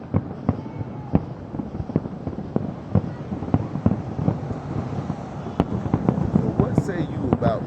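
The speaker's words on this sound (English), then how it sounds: "the way these fireworks are just sparking" Fourth of July fireworks explode in a rapid finale barrage, sharp cracks and booms going off close together and growing louder toward the end, with people talking underneath.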